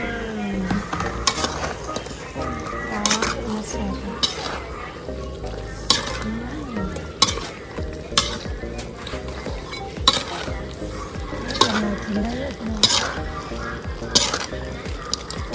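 Fish fries in a pot at home while being stirred, with a steady sizzle under repeated scraping and clinking of a utensil against the metal, and people talking nearby.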